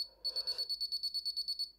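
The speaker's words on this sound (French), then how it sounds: "Donc il y a une alarme sonore." Sanwa MX-6 radio transmitter sounding its alarm: a rapid train of about fifteen shrill electronic beeps, close and clear, after a brief soft rustle at the start.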